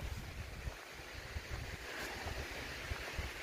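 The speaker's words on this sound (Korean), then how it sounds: "옆에 뭐 천둥 치는 소리가 계곡 물소리입니다." A constant roar of rushing water from a valley stream in Gapyeong forest, broad and steady like a stream tumbling nearby, with wind buffeting the microphone in low gusts.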